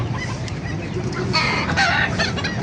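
Chicken clucks and calls at an outdoor market in Baliuag, mixed with steady background crowd noise and rumble; the bird sounds rise clearly toward the end.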